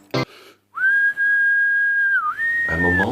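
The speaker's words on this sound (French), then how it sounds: "Prends ce sifflet qui, c'est sûr, sur toi sera efficace. C'est simple. Il suffit de souffler." A whistle blown into a single long, loud, steady tone that dips briefly in pitch near the end, after a short sharp noise and before a burst of other sound.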